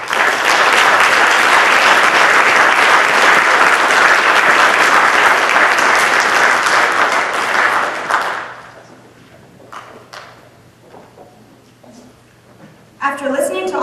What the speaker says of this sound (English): Please give these candidates a round of applause.